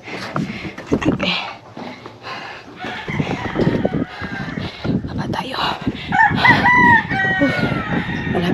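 Chickens cluck and a rooster crows repeatedly around a backyard water container set out for the fowl, close and fairly loud, with people talking over the birds.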